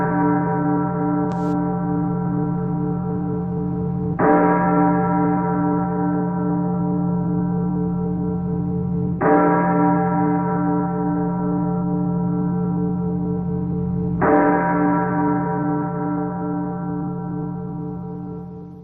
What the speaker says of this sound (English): I'll ring the long bells for him as well.